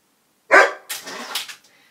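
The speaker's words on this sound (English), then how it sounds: "My dog wants to come in." A pet dog outside barks to be let indoors: one loud, close bark followed by a rougher, drawn-out bark-whine, alone with no talking.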